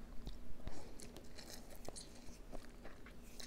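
Crunchy mi goreng instant noodles with fried minced onion being chewed up close, a run of sharp crisp bites and crunches over soft wet mastication.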